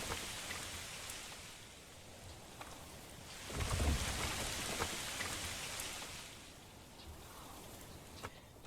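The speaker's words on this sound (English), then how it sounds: "Oh, a lovely little summer storm." A summer storm sweeps over a Manor Lords village, a steady hiss of rain falling on surfaces that swells a little midway, with no distinct thunder rising above the downpour.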